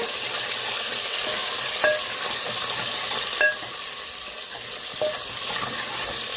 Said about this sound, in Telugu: మనం డైలీ వాడుకునే ఉల్లిపాయలు వేస్తాను నేను పచ్చిమిర్చి కొద్దిగా వేగాలి